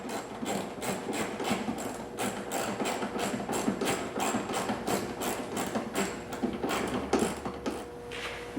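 Quick rhythmic ratcheting clicks from a hand tool tightening the lower trim bolts on an Audi A4 B6 1.8T bumper, steady repeated strokes close up in a quiet garage.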